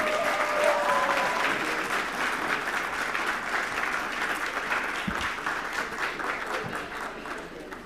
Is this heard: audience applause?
yes